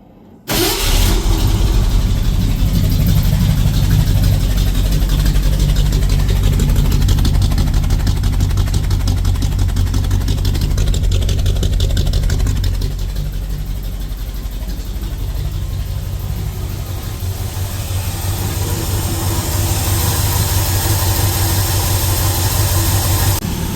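A 1977 Ford F250 engine fitted with a Holley 4412 carburetor starts up and idles steadily, close and loud, with a slight dip in pitch partway through and a constant rumble throughout.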